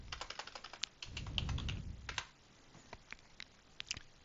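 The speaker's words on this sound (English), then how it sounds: "I'm going to type in Iron Man." Keys clack on a computer keyboard as a character name is typed into a Google Sheets lookup, a quick irregular run of close, crisp taps with a brief duller rumble partway through.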